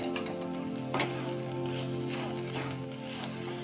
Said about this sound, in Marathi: आता हे व्यवस्थित मिक्स करून घ्यायचंय।